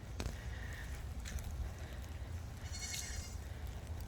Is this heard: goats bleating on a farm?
yes